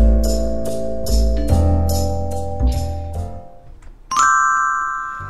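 Notification bell sound effect: a rhythmic series of bright chime strikes over a sustained musical bed, then a single high ringing ding near the end, with no voices.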